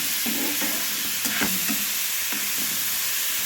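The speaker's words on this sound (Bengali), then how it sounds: "একসঙ্গে কাঁচা লঙ্কা দিয়ে আমি সব সবজিগুলো ভেজে নিলাম।" Vegetables and green chillies fry in a pan, a continuous hiss of sizzling oil broken by a few scraping stirs of a spatula, with no talk.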